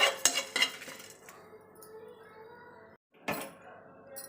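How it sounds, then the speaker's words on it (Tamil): Spice masala being dry-roasted in a pan, with a few sharp metallic clinks and scrapes of a spoon against the pan, a soft sizzle in between, a short silent gap and one more clatter at the end. "இப்போ வந்து நம்ம இந்த மசாலாவை நல்லா வறுத்துக்கலாம்"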